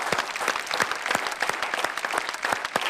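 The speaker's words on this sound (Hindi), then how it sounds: "आपके लिए एक बार फिर से जोरदार तालियां" Audience at a televised poetry show gives steady applause, a dense, close patter of many hands clapping continuously for a few seconds.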